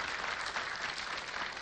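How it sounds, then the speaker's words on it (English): An audience applauds for Raymond at a family gathering at Kabarak, a fairly faint, steady wash of many hands clapping heard from a distance, with no voices over it. "I think we need to clap for our brother Raymond because he has held his family"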